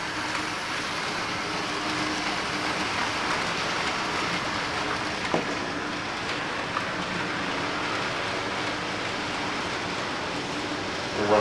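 A Rivarossi model locomotive makes a continuous run around a layout track, giving a steady, even whirring rumble with a faint rattle. It is close and moderately loud and stays unchanged throughout, with a couple of small clicks and no talking.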